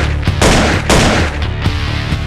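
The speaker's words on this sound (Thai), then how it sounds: "มีเสียงปืนยิงมาจากบ้านประมาณ 5-6 นัด" Gunfire from a house: several loud, close shots crack out in quick, uneven succession, each with a booming tail.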